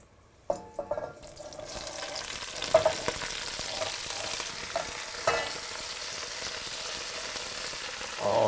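Chopped leek dropped into very hot oil in a pan, a steady bright sizzle with occasional sharp pops and stirring clatter, close and fairly quiet, no voices.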